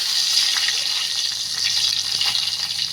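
Garlic dropped into well-heated oil for a Maharashtrian chicken rassa sizzles with a steady, bright hiss that stays loud and continuous for the whole stretch, with no talking over it.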